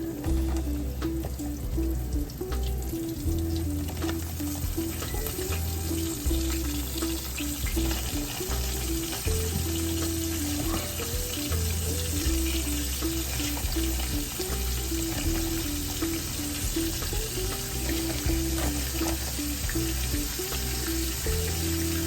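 A batch of chicken wings deep-frying in very hot grease for Louisiana hot sauce wings makes a loud, continuous bubbling sizzle throughout, close up, with steady tonal background music underneath and no talking.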